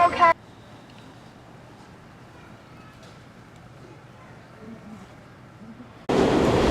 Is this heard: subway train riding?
yes